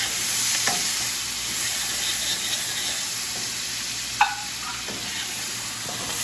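Onions frying fast over high heat in a pan, a loud continuous sizzle and hiss close up, broken by occasional utensil scrapes and knocks.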